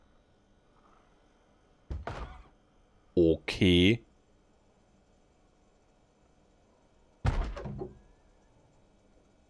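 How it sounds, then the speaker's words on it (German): A zombie pounding on a door in the survival game Project Zomboid: a sharp thump, a pair of heavy blows in quick succession, then another hard hit after a pause, with a brief spoken word in between. "Jetzt greift er diese Tür hier an."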